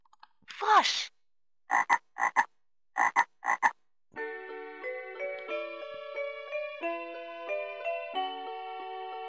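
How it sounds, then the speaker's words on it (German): Electronic frog croak from a 2009 VTech Singspaß toy microphone, a synthetic croak followed by three pairs of quick ribbit-like pulses, then a bright beeping melody of electronic tones, close and clean. "Frosch."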